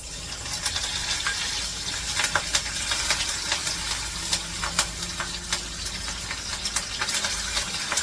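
Cumin, curry leaves and garlic frying in hot oil in a pan: a steady bright sizzle with scattered crackling pops, close and fairly loud, with no voices over it.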